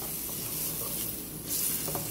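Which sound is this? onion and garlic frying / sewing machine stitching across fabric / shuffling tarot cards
onion and garlic frying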